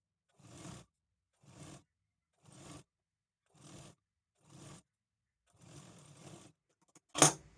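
A sewing machine stitches blouse fabric in five short, evenly spaced bursts followed by a longer run, close and fairly quiet with silence between, ending in a sharp loud snip or clatter.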